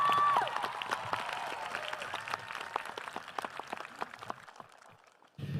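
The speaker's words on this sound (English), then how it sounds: "Ladies and gentlemen, give Emma another big round of applause." A graduation ceremony audience claps for a student, a fairly distant, hall-filling round of applause with individual claps audible, a brief tone at the start, tapering off near the end.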